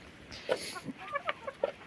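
Chickens cluck softly in short, scattered bursts, close by with no talking.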